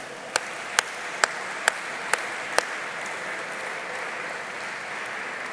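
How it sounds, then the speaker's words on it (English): Applause at an automotive awards gala marking a 20th edition, a steady wash of audience clapping with six sharp, evenly spaced claps close by at the start. "So I want to really applaud Wayne and Fernando."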